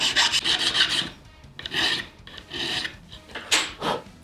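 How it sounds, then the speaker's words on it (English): A small file rasps across a guitar fret resting in a notched wooden block, several short back-and-forth strokes in bursts with brief pauses, close up and fairly loud with no voices. "we're gonna use a little file."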